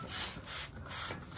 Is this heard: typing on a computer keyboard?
no